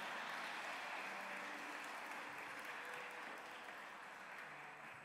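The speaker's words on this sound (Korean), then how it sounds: "박수를 한번 맞아주시겠습니까?" A church congregation applauds steadily at a joint worship service, a faint, even wash of many hands clapping that holds throughout and tapers slightly at the end, with no voices.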